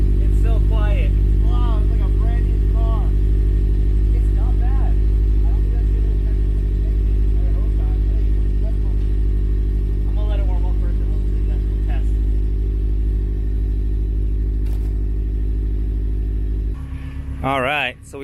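A Subaru with a new Stromung exhaust idles at first startup, a low, steady engine hum running quietly under someone talking, then cutting out near the end.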